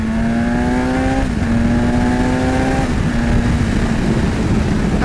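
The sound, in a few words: 2020 BMW S1000XR motorcycle engine revving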